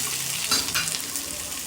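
Onions frying in a pan with a steady crackling sizzle, close and continuous, with a brief stirring scrape partway through.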